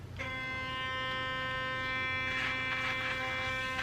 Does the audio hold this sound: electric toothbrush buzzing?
yes